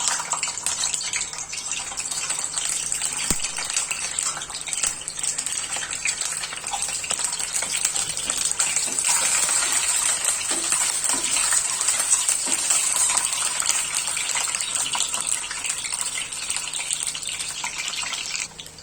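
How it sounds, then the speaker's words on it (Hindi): Eggs frying in hot oil in a dhaba-style egg curry preparation, a steady close sizzling hiss with faint crackles running continuously throughout. "अभी ये अंडे को हम तेल में फ्राई करेंगे।"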